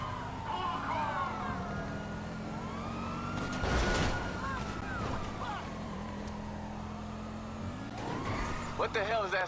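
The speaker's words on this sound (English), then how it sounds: "What ragged ass car y'all driving?" A rough, ragged car engine drones steadily in GTA 5 Online, with a wavering siren-like whine rising over it and game noise throughout.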